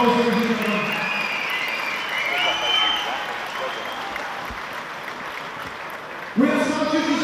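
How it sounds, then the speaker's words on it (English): A crowd applauds after three five-minute rounds of featherweight MMA, steady clapping and cheering with a ringside announcer's voice over it, and a louder voice breaking in near the end. "Let's give them all these big round of applause, ladies and gentlemen."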